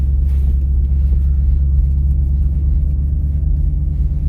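Deep, steady low rumble from a Dodge Hellcat Widebody's engine and drivetrain while driving slowly through deep snow, heard close and constant from inside the car with no speech.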